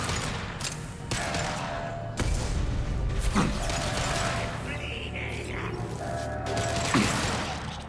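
Metal shutter closing mechanism in the Mass Effect 2 video game, a clanking, ratcheting mechanical run with sharp knocks and grinding, while distant gunfire pops in the background.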